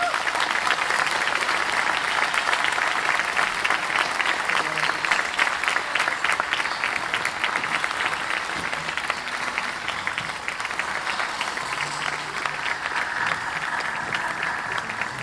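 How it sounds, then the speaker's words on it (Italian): Sustained applause from a gathered congregation thanking their bishop at the close of a Palm Sunday prayer vigil, a dense steady patter of many hands lasting throughout, with faint voices underneath. "E con un applauso ringraziamo il nostro Vescovo"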